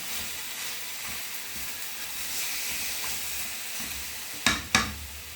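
Food sizzles steadily in a pan with a constant crackling hiss, then two sharp metallic clanks near the end.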